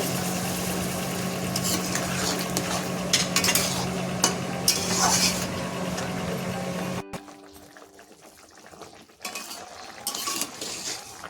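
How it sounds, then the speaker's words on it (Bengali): Mushrooms cooking in a pan as water is poured in, with steady frying hiss and stirring scrapes; the sizzle drops sharply partway through and then resumes more unevenly with clinks of a utensil. "আমি 2 থেকে 3 মিনিট মাশরুম দেওয়ার পরে কষিয়ে নিয়ে এবার পরিমাণ মতো জল দিয়ে দিচ্ছি"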